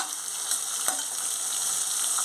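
Onions frying in a pan for a brinjal and potato mash curry give a steady close sizzle and crackle, with one sharp stir or pop near the middle and no voices.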